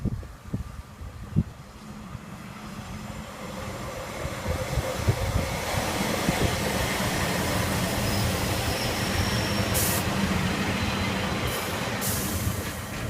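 Northern Railway train 14411, the 12:59 Sheffield to Lincoln Central service, arriving at Gainsborough Lea Road station: a faint rumble builds into a steady rolling roar of wheels on rails, with brief high squeals near the end.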